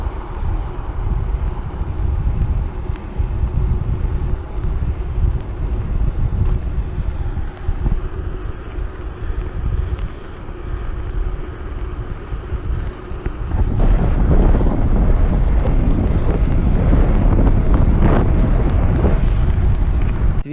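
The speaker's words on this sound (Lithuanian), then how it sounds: "Dar kas labai vargino šią pirmą dieną, tai yra vėjas iš priešpriešos." Steady headwind buffeting the microphone of a cyclist riding on a long-distance trip, a continuous rough low roar that grows louder and harsher in the final seconds, with no talking.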